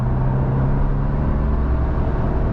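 Steady, loud engine and road drone inside a 2025 Ford Ranger pickup accelerating from about 45 mph at half throttle, a constant low hum with no clear gear change.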